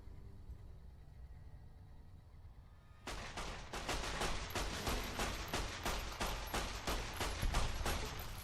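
Rapid volley of tactical pistol shots in Fallout: New Vegas, a dense string of sharp, loud cracks starting abruptly after a quiet stretch and continuing steadily, close and forceful.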